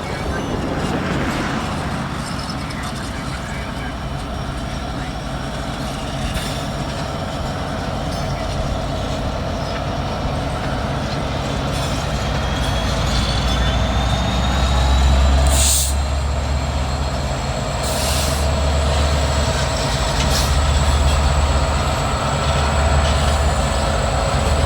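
BNSF and CPKC freight trains roll through track switches with a continuous rumble of railcars, occasional squeals and clanks, and a deeper thump building midway; someone speaks briefly.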